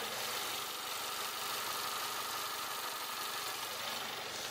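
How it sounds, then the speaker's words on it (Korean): A ninth-generation Honda Accord 2.4 EX-L with about 50,000 km on it idles steadily. The engine gives a smooth, even hum and a constant hiss, with no knocking or rough misfire, and no one speaks. "엔진 소음 먼저 들려드리면은"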